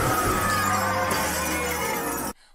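Glass shatters loudly in a sustained, dense crash of breaking and tumbling shards lasting a couple of seconds, then cuts off abruptly to near silence.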